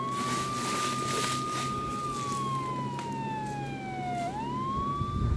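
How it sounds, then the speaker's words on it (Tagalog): An ambulance siren holds a steady tone, then slowly glides down and sweeps back up, heard at moderate distance over ambient street noise. "ipinasundo na namin sa ambulansya si Baby Ella para madala sa ospital."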